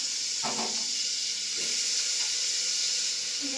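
Eggplant dropped into a hot pan, setting off a steady, bright hiss of steam and sizzle that holds throughout, with a few soft clatters of stirring.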